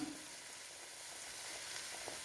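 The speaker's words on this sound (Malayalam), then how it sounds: "ചട്ടിയുടെ ചൂട് കൊണ്ട് കുറച്ച് സമയം കൂടി ഇരുന്ന് തിളയ്ക്കും" Mango fish curry bubbles in a hot clay pot, a faint, even sizzling hiss that holds steady throughout, quiet and close with no voices.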